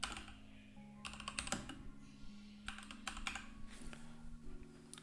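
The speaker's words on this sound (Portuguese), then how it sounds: "se eu tô digitando aqui" Soft bursts of rapid key clicks on a computer keyboard, typed in short runs with brief pauses, faint and close alongside a low steady hum.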